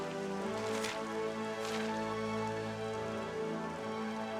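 Steady rain falls in the video game Dragon Quest XI, a continuous soft wash that runs under sustained game music with no voices.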